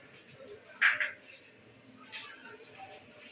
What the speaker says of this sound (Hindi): और अभी हम इसको डिश आउट करते हैं।